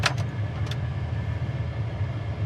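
A 1972 Chevrolet Chevelle small block V8 idles steadily up close, a low even rumble running throughout, with a couple of brief higher clicks near the start and again at the end.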